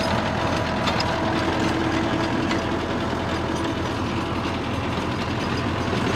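A single-cylinder tractor engine drones steadily and loudly while pulling a 7ft double-shaft rotavator through a field, a constant dense mechanical rumble with no breaks.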